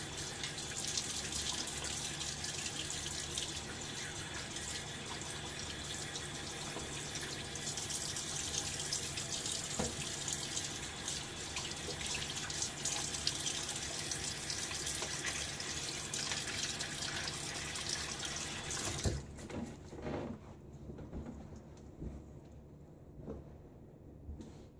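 Tap water runs steadily into a sink while a razor is rinsed during a wet shave, a continuous close splashing stream lasting about twenty seconds before it is shut off.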